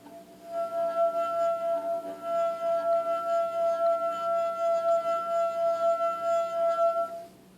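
A wine glass holding a little liquid sings as its rim is rubbed, giving a sustained pure ringing tone with faint overtones that swells and wavers steadily for several seconds, then fades.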